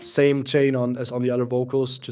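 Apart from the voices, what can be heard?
No distinct noise like a dog, phone or traffic.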